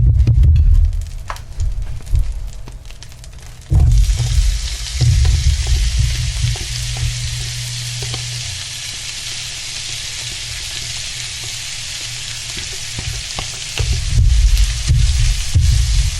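Venison hash sizzles steadily on a hot cooking surface in melted fat, a close, continuous frying hiss with occasional stirring and scraping, louder bursts near the start and end, no talking.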